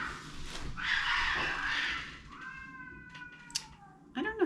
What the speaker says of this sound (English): I don't know if you can hear the cats.